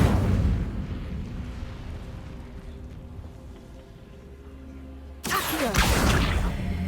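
Incendio fire spell cast in a Harry Potter video game on Xbox: after a stretch of low ambient game sound, a sudden loud burst of fiery whooshing roar erupts and sustains briefly, with no talking.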